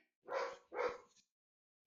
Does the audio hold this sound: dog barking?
yes